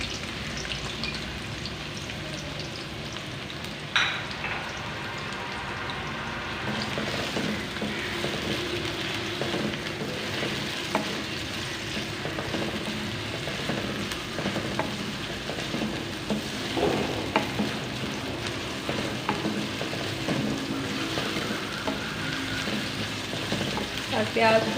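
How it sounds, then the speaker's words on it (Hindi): Onions fry in half a cup of hot oil for kofta curry. A continuous crackling sizzle lasts throughout, with intermittent spoon-stirring knocks and scrapes, close and moderately loud. "अब प्याज डालेंगे।"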